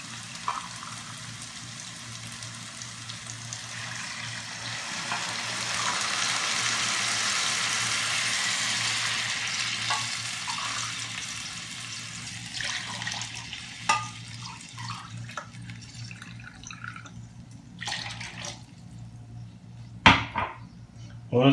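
Water poured into a cooking pot of tomato and spice masala for Kabuli pulao, a steady pouring rush that builds and then tapers into scattered splashes, clinks and knocks, with no talk.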